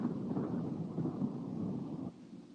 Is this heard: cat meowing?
no